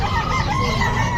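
A Pumpkin Sweater gamefowl rooster crows at a busy pet market, a loud wavering crow close by against constant crowd and animal noise.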